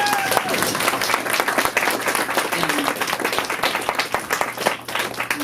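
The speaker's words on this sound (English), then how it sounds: "Let's just clap for that, please." A live talk-show audience claps steadily at an art event, dense applause sustained throughout with a voice briefly speaking over it.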